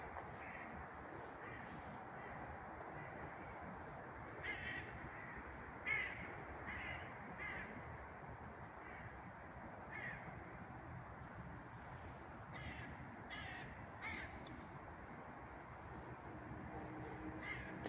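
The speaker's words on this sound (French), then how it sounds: "vous entendez les corbeaux?" Crows cawing in a forest, harsh calls repeating in scattered bursts at a moderate distance over a steady hiss of wind, with no talking.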